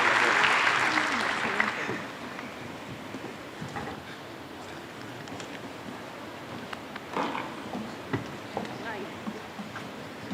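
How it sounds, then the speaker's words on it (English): Audience applause for conference panelists at a Latin America and Caribbean regional conference, loud and dense for the first two seconds, then thinning to scattered claps and murmuring voices for the rest. "A round of applause for the panelists, please."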